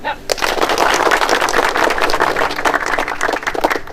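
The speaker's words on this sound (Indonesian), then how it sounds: "Tepuk tangan." Crowd applause inside a Kostrad Regiment 1 military barracks, a dense, loud burst of many hands clapping that holds steady for several seconds, with a voice faintly underneath.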